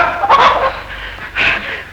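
A rooster in a film scene lets out two loud, harsh squawking calls close by, the second shorter than the first.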